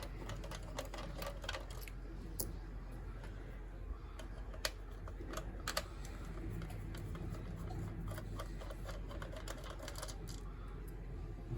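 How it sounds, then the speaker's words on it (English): A Phillips screwdriver, freshly magnetized, backs four small screws out of the plastic gearbox of a 2003 Hallmark Caroling Snowmen plush toy, giving soft, irregular close ticks and clicks over a steady low hum. "we'll get my Phillips screwdriver, and we'll take out these 4 screws"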